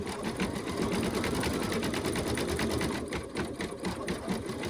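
Embroidery machine stitching an in-the-hoop table topper design, a rapid even mechanical chatter heard up close and continuously.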